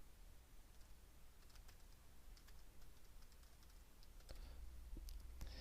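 Quick, light keystrokes tapping on a computer keyboard while a name and email are entered into a web form, steady and close, with a few sharper clacks near the end and no voices.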